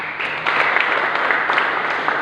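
Church congregation applauding during a sermon, a brief, dense and steady round of clapping heard close and loud, with no voice over it.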